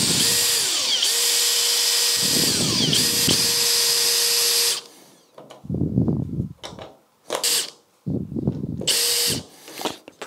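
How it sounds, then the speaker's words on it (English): A power drill bores out steel rivets on the bonnet locks of an MGB GT, whining loudly in two long bursts, then several shorter stop-start drilling bursts with quiet gaps between. "I just need to drill out these rivets."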